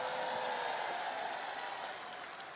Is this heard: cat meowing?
no